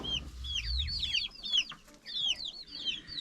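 Ten small free-ranging chicks on a Bulgarian homestead barnyard give quick, high up-slurred peeps in a fast overlapping run, faint and fairly close, with a brief low thump at the start and no voices.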